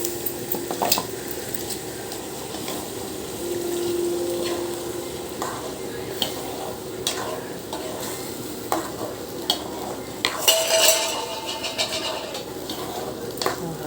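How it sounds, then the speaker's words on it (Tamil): A spoon stirs coconut milk in a pot of boiling sundakkai (turkey berry) curry over a soft, continuous bubbling sizzle, with a few sharper clinks of metal against the pan. "தேங்காய் பால் ஊற்றிடுறோம்"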